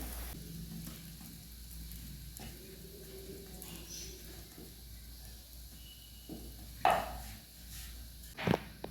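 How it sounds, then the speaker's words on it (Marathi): Chapati roasting on a hot tawa over a gas flame gives a quiet, steady low sizzle, with a couple of sharp handling taps near the end. "इथे गॅसवर आपण तवा ठेवलेला आहे, तवा आपला गरम झालाय, त्याच्यावर आपण आपली चपाती टाकून घेऊया।"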